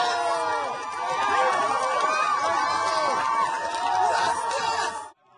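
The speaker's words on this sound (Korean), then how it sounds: "법원 앞에서 시민들의 환호가 터져나옵니다." A large crowd cheers and shouts outside a courthouse after a guilty verdict in the George Floyd case, a dense, sustained roar of voices with whoops and screams that holds steady for several seconds before cutting off.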